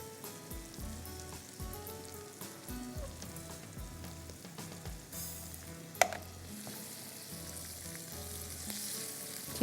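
Sliced mushrooms frying in a pan, a steady close sizzle with stirring scrapes and a sharp clack midway, running continuously for several seconds without talk.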